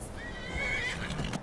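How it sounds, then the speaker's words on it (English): A horse neighing in the VR game Skyrim VR, one short, shrill whinny followed by a few hoof clip-clops, fairly close and alone. "that horse is gonna die"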